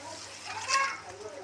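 Water is poured into a pan of small-fish curry, a soft splashing trickle that swells briefly in the middle.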